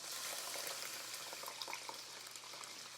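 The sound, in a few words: water poured into a hot pot of rice and beans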